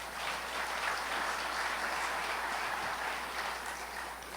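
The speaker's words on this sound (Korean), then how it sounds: "우리 강사 목사님께 다시 한번 뜨거운 박수 한번 주시기 바랍니다" A church congregation at a retirees' conference applauds a guest pastor, a steady wash of clapping from many hands that fills the room throughout, with no speech over it.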